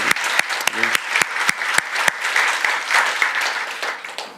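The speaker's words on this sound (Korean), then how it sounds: "우리 하나님께 감사, 또 우리 모두에게 축복의 박수로" A church congregation at a Christmas Sunday service claps: a few scattered claps at first, then thickening into steady applause that gradually tapers off, with a brief voice near the start.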